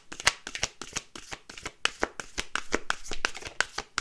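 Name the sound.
playing cards being shuffled and dealt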